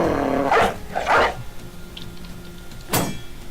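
A war dog in the video game Battle Brothers gives two quick barks followed by a growl-like snarl a couple of seconds later, loud and close against a faint game background, with no speech.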